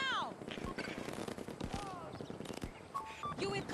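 Automatic and single gunfire in Battlefield 2042 crackles in quick bursts across the clip, mixed with game voice chatter and radio-style comms, fairly close and dense.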